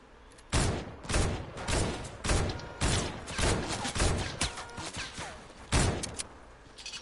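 Gunfire in Fortnite rings out as a series of sharp, loud shots in irregular bursts, several spaced apart and then a final heavier blast, with no voices.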